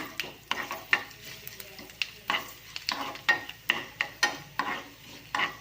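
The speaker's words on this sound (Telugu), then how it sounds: "బాగా ఫ్రై చేసుకోండి" Tempering spices with dried chillies and crushed garlic fry in hot oil, with a steady sizzle under a run of rhythmic stirring scrapes against the pan, close and moderately loud, and no voice.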